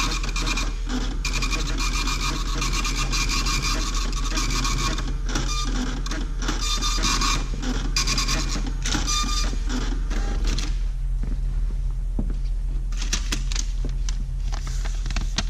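A kitchen ticket printer at a point-of-sale station prints an order ticket, giving a loud, continuous rasping chatter that runs for several seconds, then thins and stops near the end.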